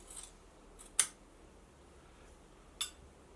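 Scissors snip off excess upholstery webbing after stapling it to a furniture frame, two sharp isolated cuts spaced well apart in an otherwise quiet room.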